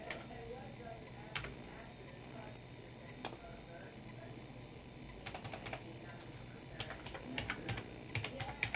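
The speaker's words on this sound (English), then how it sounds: "Okay, I typed in, okay, http://Microsoft.help." Computer keyboard typing in bursts of light, quick key clicks, close but fairly quiet, with a low steady background hum and a brief voice in the room.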